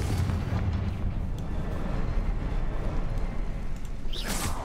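The Confringo fire spell goes off in Hogwarts Legacy, a dull, rumbling blast with a noisy tail that carries on for several seconds, followed near the end by a brighter whooshing flare.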